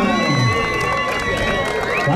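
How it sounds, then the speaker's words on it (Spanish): Loud crowd applause and cheering at a rodeo-style ranch event in Kansas City, with whoops and shouts over continuous clapping and a sustained tonal whine running through it. "Fuerte el aplauso que se oiga"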